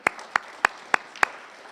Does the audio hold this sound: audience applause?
yes